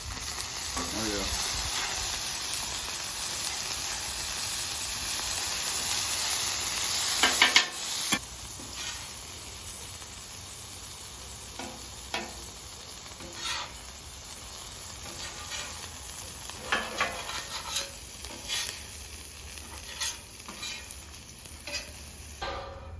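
Smash burgers sizzle on a hot Camp Chef griddle, a steady close frying hiss broken by sharp spatula scrapes and taps, with no talk.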